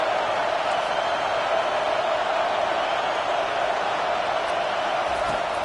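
A football stadium crowd on fourth down keeps up a loud, continuous roar that fills the whole stretch without pauses and stays steady and unbroken, with no clear voices rising above it.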